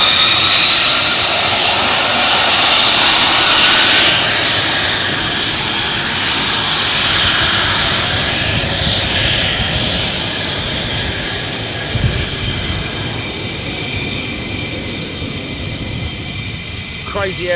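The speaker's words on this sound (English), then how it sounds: "Crazy aeroplane, isn't it?" Military jet engines roar loudly and continuously at RAF Lakenheath, a close, sustained whine and rumble that slowly eases in intensity, with people talking faintly beneath.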